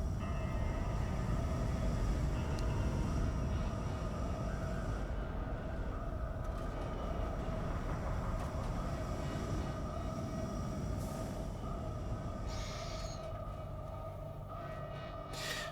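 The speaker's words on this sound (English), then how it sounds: "now you can see Odachi coming up on the pads up top and landing" Odachi carrier ship in X4 landing on its upper pads: a steady, droning mechanical hum with tonal whine and faint clanks, continuous and moderately distant, easing slightly toward the end.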